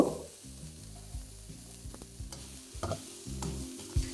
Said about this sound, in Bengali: তারপর সেটাকে একটু ভালো করে ভেজে নেব